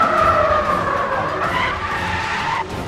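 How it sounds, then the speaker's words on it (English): Loud, sustained tire skid and squeal from a car sliding in the racing video game Need for Speed: The Run, with a shifting pitch over engine noise. "This is all the logic that goes into just playing this tire skid sounds."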